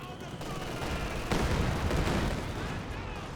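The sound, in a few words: cannon and gunfire in Company of Heroes 2 video game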